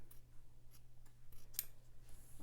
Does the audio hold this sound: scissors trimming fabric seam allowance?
yes